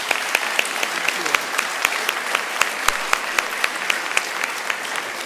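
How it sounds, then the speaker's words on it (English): A crowd applauds steadily at a book fair author event, many hands clapping in a dense, sustained burst that fills the room without pause. "Let's give them another round of applause"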